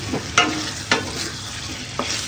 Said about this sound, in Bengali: এভাবে আলুটাকে ভালো করে কষিয়ে নিতে হবে।